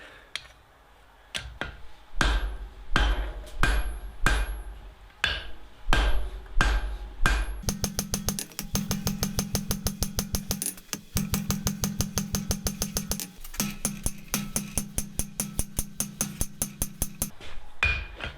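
Hammer blows ring on hot metal over an anvil while barn door hardware is forged, starting as slow, widely spaced strikes and then settling into a fast, steady run of sharp, loud, ringing hits with brief pauses.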